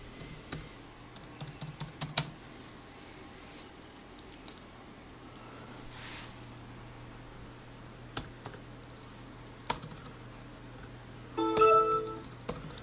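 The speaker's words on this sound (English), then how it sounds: "Ugh, hate typing with one hand." Someone typing one-handed on a computer keyboard at an expensive gaming setup: sparse, irregular clicks with short pauses, then a quick cluster of keystrokes near the end, all close against a quiet room hum.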